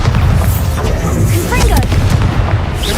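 A Bombarda explosion spell in Hogwarts Legacy goes off with heavy booming blasts and rumbling debris, loud and close, layered under a voice talking over the game audio.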